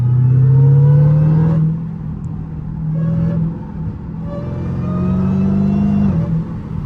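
A supercharged 900 HP Dodge Hellcat engine, heard from inside the car with the sunroof open, revs in three rising swells with a steady climbing whine, loud and close, with no talking.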